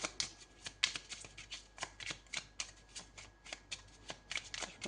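Tarot cards are shuffled close up in quick, repeated riffling bursts of soft papery slaps, quiet and with no talking.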